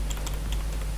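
Rapid keystrokes on a computer keyboard as a web address is typed, a quick run of light clicks over a steady background hum.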